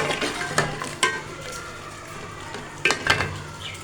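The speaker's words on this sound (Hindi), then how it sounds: "अब हम इसको कर लेंगे फ्राई इस तरह से।" Meat and peas frying in a pan, with scattered clanks and scrapes from the stirring spoon over a faint background sizzle. A pair of sharper knocks comes near the end. No voices.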